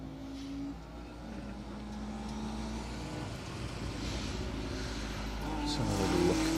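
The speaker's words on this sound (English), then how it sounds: "A fantastic Mark 1 Escort." Ford Mark 1 Escort rally car on a forest stage at a circuit rally event, engine droning steadily and building louder toward the end, with a broad rumble under faint background noise.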